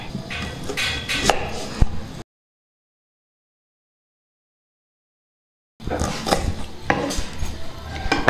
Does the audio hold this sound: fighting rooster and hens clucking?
no